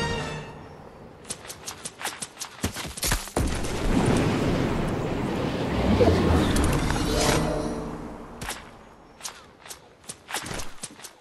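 Gunfire in Fortnite: sharp, loud shots in uneven bursts and single cracks, with a dense stretch of rapid fire and rumbling impacts in the middle, then scattered shots again near the end.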